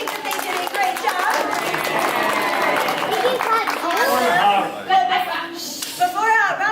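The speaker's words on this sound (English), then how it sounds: "you guys want to give him a little round of applause?" A theater crowd at a sea lion show applauds, a scattered patter of clapping running steadily beneath an announcer's voice, with bits of chatter from the audience.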